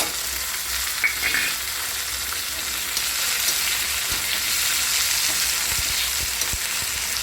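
Onion and tomato fry together on a tava for an egg curry, giving a loud, continuous sizzling hiss with occasional soft stirring knocks throughout, and no voices.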